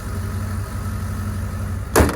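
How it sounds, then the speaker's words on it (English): The engine of a 24-year-old Dodge Durango with a small exhaust leak runs at a steady idle, a low continuous rumble, ending with a brief sharp knock or clunk. "actually hear a little exhaust leak"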